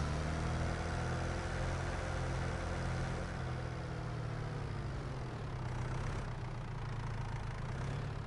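A tractor engine idles in the Farming Simulator 25 video game, a steady low rumble that holds evenly throughout at moderate loudness.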